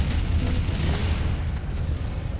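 Missile explosions in a MechWarrior battle, a continuous heavy low rumble of booms and blasts with bursts of impact noise, loud and close throughout.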